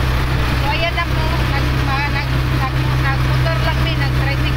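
A tricycle engine drones steadily throughout a ride toward Talibon, a loud constant rumble with a person talking over it.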